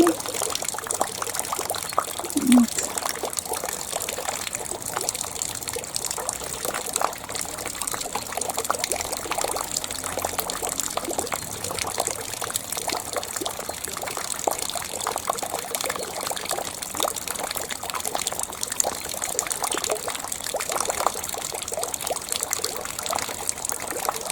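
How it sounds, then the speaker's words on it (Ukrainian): Steady trickling and dripping rainwater runs continuously, a close, splashy wash of rain draining, with a voice speaking faintly underneath. "Почалися в нас дощики."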